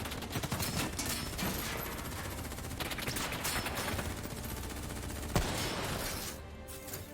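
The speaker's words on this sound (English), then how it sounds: "Who's shooting?" Sustained automatic gunfire from Call of Duty: Black Ops III gameplay, dense rapid bursts overlapping into a constant loud barrage with one sharper crack near the end.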